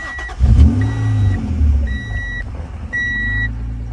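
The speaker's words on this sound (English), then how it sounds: "let's fire this car up." A 1992 Acura NSX with a 5-speed cranks and its engine catches, settling into a steady mid-pitched idle, while repeated electronic beeps from the car chime over the running motor.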